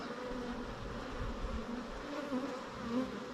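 Honey bees hum in a steady, dense buzz at an opened hive, a close, continuous drone of many insects with no talking over it.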